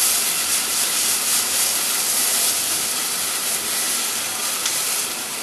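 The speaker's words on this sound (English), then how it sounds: "Sweat them shallots down for a little bit." Chopped shallots sweat in a hot pan, giving a steady, loud, even sizzling hiss that holds unbroken throughout with no talking.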